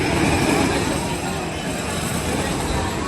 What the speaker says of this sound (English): this is my favourite ghost train